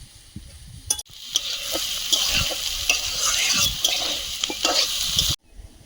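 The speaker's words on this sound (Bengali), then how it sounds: "সবজিগুলো ভাজা হয়েছে তুলে নেব" Vegetables for fried rice being stir-fried in a hot wok, a continuous sizzle with repeated scraping strokes of a spatula, close and alone, ending abruptly.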